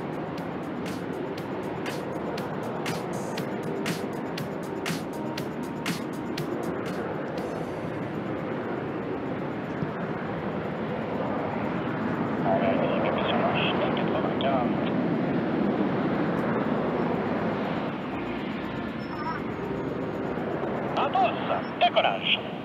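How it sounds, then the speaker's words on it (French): Patrouille de France jets taking off at the Paris Air Show, a distant roar that swells and lingers beneath an announcer talking over a loudspeaker, with crowd noise and clicks around it. "Et c'est parti pour le décollage simultané des deux box"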